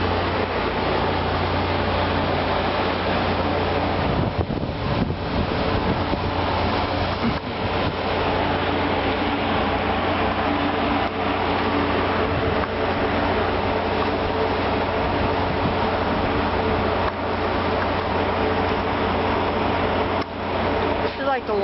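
Union Pacific freight train at Burlingame slowly starting to roll, a steady low rumble and mechanical hum continuing throughout, with excited voices talking over it close by.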